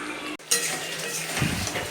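A metal spoon clinks and then scrapes through a pot of Bengali-style country chicken curry, giving one sharp knock followed by a continuous close stirring rasp.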